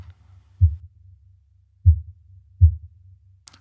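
An isolated 80 Hz fundamental band of a kick drum gives three soft, deep, muffled thumps at uneven intervals over a faint low hum, with no other sound.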